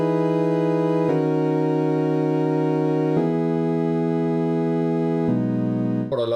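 Synthesizer patch built on a modulated triangle wave with pulse width, sustained bright tones stepping through a few held notes, each change marked by a sharp attack, ending on a brief glitchy flourish.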